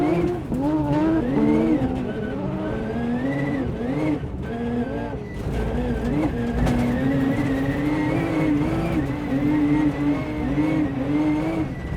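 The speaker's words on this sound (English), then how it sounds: "Fourth gear, and it's still sliding, and still looking for traction." A rally car in fourth gear sliding across a gravel stage, engine droning steadily at high revs with shifting pitch as the tires scrabble for grip, loud and close throughout without speech.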